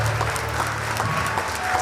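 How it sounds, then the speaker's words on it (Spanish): Church congregation clapping loudly in praise during a sermon, a steady, dense burst of applause lasting under two seconds. "Fuertes aplausos a nuestro Dios."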